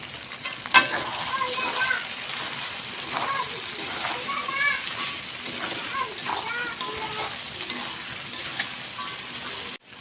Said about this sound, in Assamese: এই অকণমান আৰু ভাজিব লাগিব।